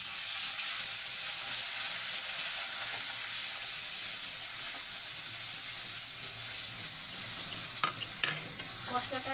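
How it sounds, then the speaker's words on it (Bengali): Onion, garlic and green chili paste frying in hot soybean oil for a fish curry, a steady loud sizzle and crackle throughout, with a few sharper spatters near the end. "তেলটা গরম হয়ে গেছে, দিয়ে দিচ্ছি পেঁয়াজ বাটা,"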